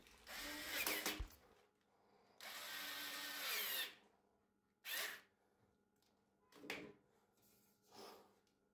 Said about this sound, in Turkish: Şimdi bunu vida ile tutturacağım, akıllı vida ile.